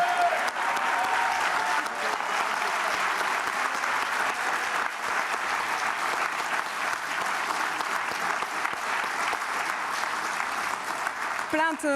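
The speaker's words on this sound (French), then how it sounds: "le public des Sables d'Olonne va encore t'applaudir pour t'envoyer plein de courage" Spectators at Les Sables d'Olonne for the Vendée Globe sailing race applaud steadily, a broad, sustained roar of clapping with a faint voice briefly over it at the start and a short tonal sound at the very end.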